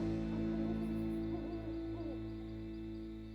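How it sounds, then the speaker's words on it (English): A cartoon owl gives a repeated wavering hoot, loud and close, with several rising and falling calls over a steady tonal background and no talking. "That's the cry of the owl."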